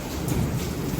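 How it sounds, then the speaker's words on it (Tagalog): Heavy rain pours down with a low rumble of thunder underneath, a dense continuous wash of sound during a storm, no voices. "Umuulan."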